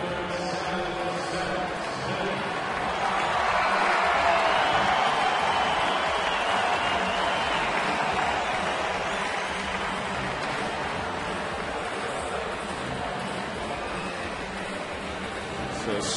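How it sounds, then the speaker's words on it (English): Baseball stadium crowd at a Cardinals at Rockies game, a sustained roar that swells after a few seconds and then holds steady as a broad wash of cheering. "Listen to the crowd."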